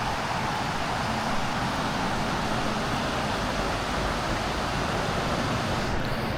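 A waterfall beside a night-time campsite gives a steady, broad roar of rushing water, constant and close, with no voices.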